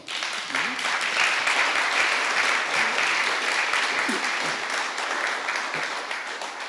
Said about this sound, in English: Round of applause for their thought.